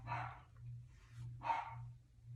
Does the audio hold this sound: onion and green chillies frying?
no